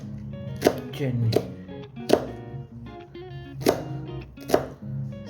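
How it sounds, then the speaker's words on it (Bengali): A knife chops onions for a Bengali bharta recipe, giving several sharp, evenly spaced chopping strikes against a board, close and distinct, with a voice speaking between them. "পেঁয়াজ কাটা শেষ হয়ে গেল"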